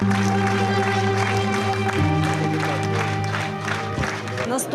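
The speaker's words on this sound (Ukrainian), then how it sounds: "повна зала аплодує стоячи" A full cinema hall applauding at a standing ovation after a film screening, dense continuous clapping with crowd noise, loud and sustained throughout.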